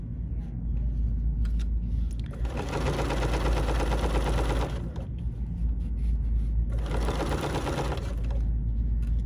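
A BERNINA sewing machine stitches vinyl binding in two steady, rapid bursts of mechanical clatter separated by a pause, close and clear over a constant low hum.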